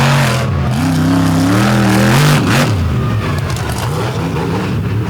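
A 557 cubic inch KB Olds pulling engine revs loud and close at an all-star finals pull, its pitch climbing and wavering for a few seconds before settling into a steady, heavy roar.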